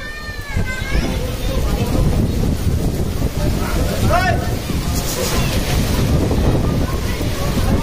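Strong wind buffets the microphone at the Amboli reverse waterfall point, a loud continuous roar with gusts, while people talk and shout over it.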